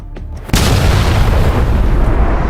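A massive explosion set in a desert, hitting suddenly with a loud boom and then rolling on as a dense, roaring blast that fills the rest of the moment with no voice over it.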